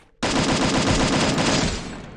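After a brief quiet moment, a rapid burst of automatic gunfire from the Free Fire battle game runs loud and dense for about two seconds before tapering slightly.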